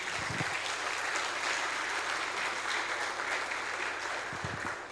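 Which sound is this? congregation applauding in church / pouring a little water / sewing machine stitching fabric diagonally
congregation applauding in church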